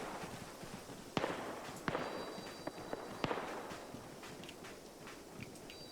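Gunfire in Arma 3 shooting out the wheels of a vehicle: several sharp, distant cracks spaced irregularly over a hushed outdoor wind background, faint and separated by a second or so.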